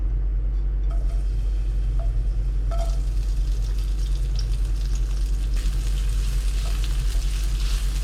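Continuous sizzling of onion and chili frying in hot oil, steady and close, with a low hum underneath and no talking.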